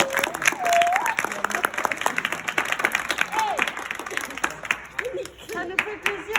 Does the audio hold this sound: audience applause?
yes